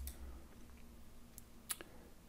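A computer mouse clicks on a software button, giving two or three faint, sharp clicks against a quiet background hum.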